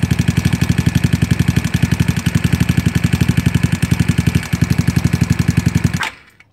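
A GY6 scooter engine idles with its idle mixture screw just adjusted, sputtering with a rapid, even, slightly lumpy beat close up until it abruptly cuts out near the end.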